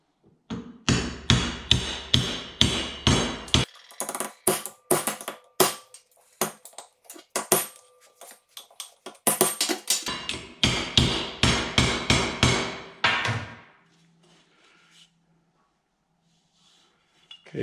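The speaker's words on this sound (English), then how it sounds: "if you're worried about me hammering on this U-joint" Repeated heavy metallic hammer blows on a driveshaft U-joint in a home garage, in rapid bursts, ringing sharply and close by, with short pauses between series before falling silent.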